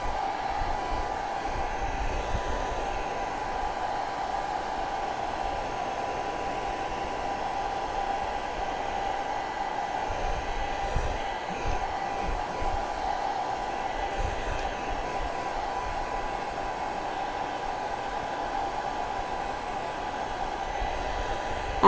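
A hair dryer blows steadily on a vinyl decal stuck to a glass candy jar, a constant loud whooshing roar with a faint motor whine, unbroken from start to finish.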